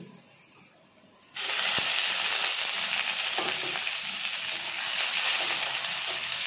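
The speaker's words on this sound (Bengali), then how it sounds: "মাছের তেল আমি ভেজে নেব" Oil in a pan bursts into a loud, continuous sizzle after a quiet start, crackling steadily as the fish oil fries.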